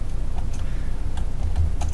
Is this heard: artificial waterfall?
no